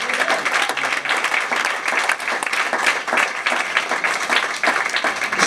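A church congregation claps and cheers in praise, dense and loud applause sustained throughout, with rhythmic hand-clapping and a few voices in the crowd.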